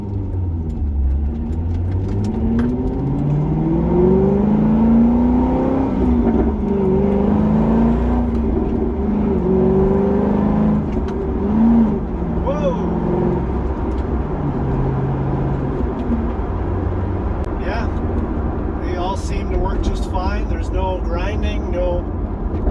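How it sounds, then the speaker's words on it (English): A C6 Corvette on a road test pulls through the gears, its engine note rising and falling with each shift under steady road and wind noise, while someone talks over it. "I'm going to go all the way through the gears so you guys can see, make sure all these gears work good."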